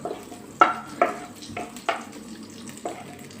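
Butter melts in a pan with a soft sizzle, broken by a handful of distinct clinks and scrapes from stirring, spaced unevenly and heard close up.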